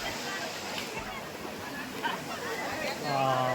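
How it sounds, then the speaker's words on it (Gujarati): Waves washing and splashing in continuous rushing surges, with voices talking over it. "હા મોજાઓ જો આસ્તે આવે રમતી રમતી"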